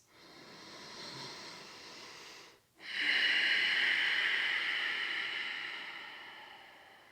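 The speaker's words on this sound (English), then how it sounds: "Take some deep belly, ribs, chest breaths." A slow, deep breath during a yoga cool-down: a soft airy inhale, a brief pause, then a longer, louder exhale that gradually fades, close and breathy with no talking.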